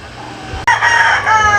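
A broodstag rooster crows loudly and close by over a steady farmyard background, the call rising sharply partway through.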